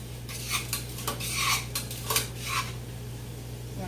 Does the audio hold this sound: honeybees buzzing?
no